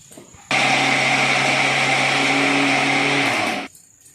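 A mixer grinder grinds sugar and jaggery into powder with a loud, steady motor whine and rattle that runs for about three seconds and then cuts off sharply.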